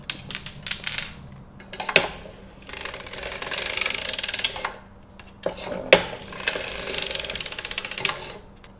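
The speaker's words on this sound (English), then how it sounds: "So I'm going to wrap that one and crank all the way around." An Erlbacher sock knitting machine being hand-cranked around, giving rapid clattering ratchet-like mechanical clicks in several bursts separated by brief pauses, close and clear with no talk.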